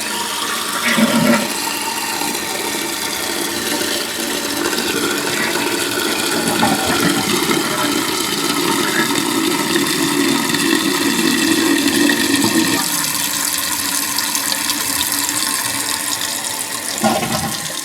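A toilet flushes with a new fill valve installed, a long, steady rush of water pouring and draining for most of its length at close range, with no one talking over it.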